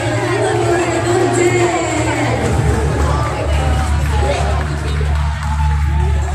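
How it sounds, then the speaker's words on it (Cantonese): A crowd claps and cheers for three guests being welcomed onstage at a live event, a dense, continuous roar of applause and whoops with an announcer's voice and a low musical hum underneath. "多啲掌聲俾"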